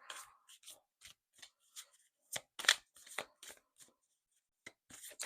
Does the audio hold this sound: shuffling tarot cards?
yes